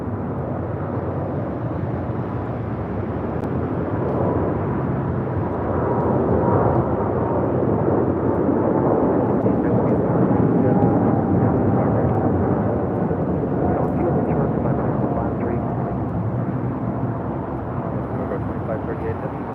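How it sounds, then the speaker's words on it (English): China Southern Cargo Boeing 777 freighter rolling for takeoff on runway 25 right at LAX, a broad jet-engine roar swelling and fading over about twenty seconds, with people talking over it. "We have the China Southern Cargo now rolling on 25 right. 777 freighter headed out to Guangzhou."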